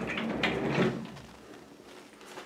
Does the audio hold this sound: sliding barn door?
yes